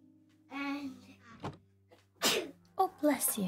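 A single sharp sneeze bursts out close by, breathy and abrupt, set among bits of voiced speech before and after it.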